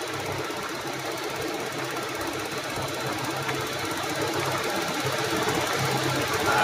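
Toyota Revo GLX engine running steadily, a continuous mechanical rumble with a knocking, chattering texture, fairly close and unbroken, with no voices over it.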